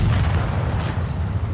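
A tank gun firing in the game World of Tanks Blitz: one loud, deep boom with a rolling low rumble that fills the moment, close and heavy.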